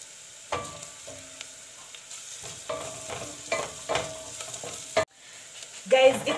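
Ginger and garlic frying with onions in a pot for pilau, a moderate sizzle broken by repeated stirring scrapes and clatters, briefly cut off near the end before a louder burst of frying.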